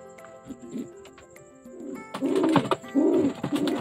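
Racing pigeons coo softly nearby, low throaty coos rising and falling in short bursts, growing louder toward the end over faint background noise.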